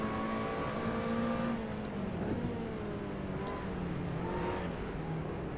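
A Lotus Exige engine in the Assetto Corsa racing game revs hard and steadily, with rising and falling pitch sweeps as it accelerates and shifts, loud and continuous with no talk.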